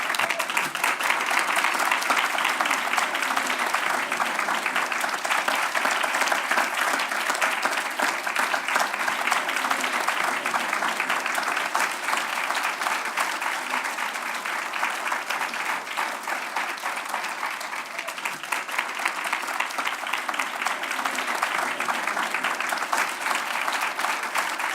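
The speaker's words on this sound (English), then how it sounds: "Please join me in giving David Douglas a round of applause" Audience applause at an alumni awards ceremony, a long sustained burst of many hands clapping densely and evenly for about twenty-five seconds, steady and fairly loud throughout with a slight dip midway.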